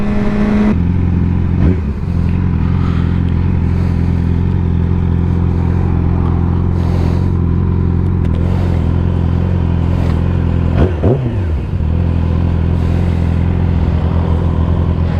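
A Yamaha R6 motorcycle or Nissan 370Z engine idles steadily up close, with two brief revs standing out above the constant drone, one early and a sharper one later.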